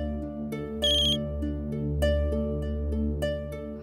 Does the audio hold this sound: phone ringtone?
yes